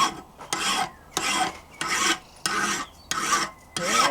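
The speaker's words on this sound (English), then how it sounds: "let's see if I can file with this vise, if it is secure enough" Metal being filed in a vintage German wrought iron locksmith vise, six loud, close, even rasping strokes with brief pauses between them and no talk.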